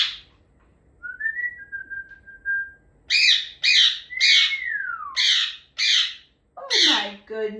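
A pet bird perched on top of its cage gives a thin sustained whistle, then a run of loud, close squawking chirps in quick succession, one call sliding downward, with no talk over it.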